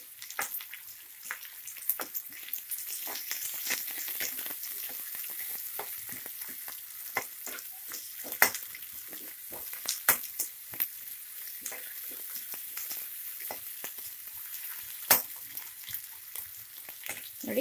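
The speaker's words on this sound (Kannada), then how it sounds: "ಈಗ ಕಟ್ ಮಾಡಿರೋ ಈರುಳ್ಳಿ ಮತ್ತು ಕರಿಬೇವು ಹಾಕ್ಕೊಳ್ಳಿ. ಒಂದು 2 ನಿಮಿಷ ಫ್ರೈ ಮಾಡ್ಕೊಳ್ಳಿ ಈರುಳ್ಳಿನ" Chopped onions and curry leaves fry in a pan with a soft, steady sizzle, and sharp pops and crackles burst out irregularly throughout.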